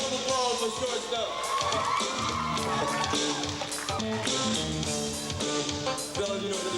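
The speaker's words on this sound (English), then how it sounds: "round of applause for shortstop" A school crowd applauds and cheers for the shortstop, with whoops and yells layered over music and general commotion, loud and busy throughout.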